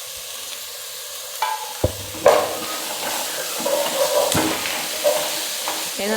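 Crushed ginger and garlic, about two teaspoons, hit hot oil in a pan for a Kerala-style country chicken curry, giving a steady close sizzle with a few stirring knocks and no speech.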